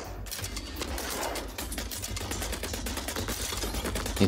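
Mecha gunfire in the roguelite video game Uragun comes as a dense run of rapid, sharp shots at a steady moderate level, with quick bursts layered over a continuous game soundscape.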